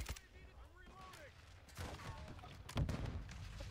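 Gunfire from a Call of Duty MW2 match, with scattered shotgun blasts and sharp shots cracking at a distance, a heavier boom near the end, and game voices and chatter faintly underneath.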